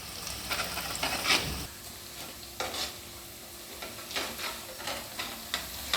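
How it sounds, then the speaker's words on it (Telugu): Onions fry in a pan for a potato egg curry, a soft constant sizzle broken by repeated scraping stirs of a spoon against the pan at an irregular rhythm. "ఉల్లిపాయలు కొంచెం ఫ్రై అయినాయి కదండి"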